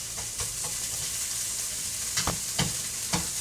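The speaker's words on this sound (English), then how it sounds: "From the onions, cooking in some oil." Onions frying in oil in a pot for a root vegetable chowder give a steady, close sizzle, broken by a few soft scraping stirs.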